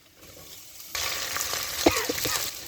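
Mustard seeds and cluster beans hit hot oil and burst into a loud, steady sizzle that starts suddenly and crackles on, with a faint clink of a utensil.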